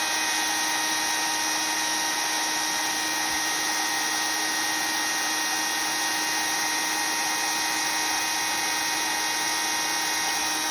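A heat gun blows steadily as it warms a WoodUbend moulding, a wood-fibre and resin blend, giving a constant loud whine and airy hiss with a sharp high tone, running alone without pause.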